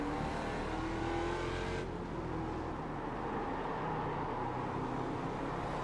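Ford Mustang race car engine on the Okayama circuit in the iRacing sim, a loud continuous droning roar that shifts pitch partway through, with no voice over it.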